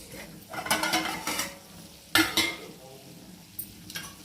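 Food bubbles and sizzles in a pan, joined by bursts of stirring and utensil scraping against the cookware, close by with no talk.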